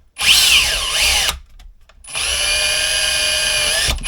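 A power drill whines loudly, pausing briefly, then running again steadily as it drives a screw into wood during boat work, close by.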